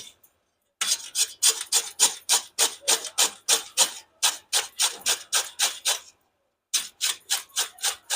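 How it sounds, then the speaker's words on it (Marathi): Tender ridge gourd being grated by hand, with quick rhythmic rasping strokes in steady bursts broken by two short pauses, close and fairly quiet. "दोडके कोवळे असल्याने त्यात शिराळी नाही म्हणून पूर्ण दोडका किसून घेऊ"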